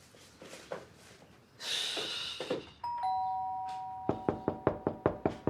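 Knuckles rap on a door in scattered knocks, then a doorbell rings with a sustained two-tone chime, followed by a rapid run of loud, evenly spaced knocks. A breathy exhale is heard near the middle.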